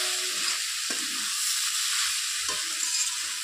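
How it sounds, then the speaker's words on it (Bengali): Cabbage curry with vegetable spice stirred in a pan, a spatula scraping in a few uneven strokes over a steady sizzle close by, with no talking. "দিয়ে আবার একটু নেড়ে চেড়ে দিচ্ছি।"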